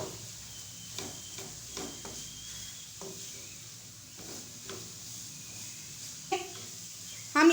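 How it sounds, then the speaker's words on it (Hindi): Grated carrots frying in ghee in a pan for gajrela, a soft, steady low sizzle with light stirring clicks and scrapes, fairly quiet throughout, ending in a brief louder clatter. "ये गाजरें हम इस घी में भूनेंगे।"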